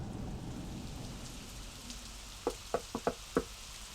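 Rain falls on a wet day in Los Angeles as a soft, constant hiss. Near the end, five sharp knocks or drips land in quick, uneven succession.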